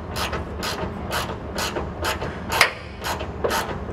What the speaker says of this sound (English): So let's get started with this ratchet.